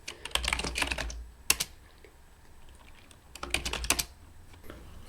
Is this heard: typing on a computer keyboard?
yes